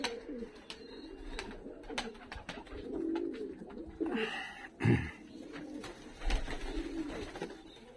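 Black-tailed barefoot fighting pigeons coo repeatedly at close range in Tbilisi, Georgia, soft throaty rolling calls rising and falling over several seconds with a few brief flutters and knocks around them.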